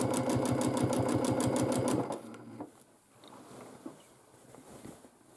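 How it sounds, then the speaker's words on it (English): A domestic sewing machine does dense dot-to-dot quilting, a fast, even, close stitching chatter for about two seconds before it stops, leaving faint handling noises. "So here I will just make relatively dense dot to dot quilting"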